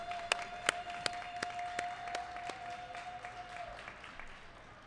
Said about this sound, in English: Give a round of applause for Sunny Gem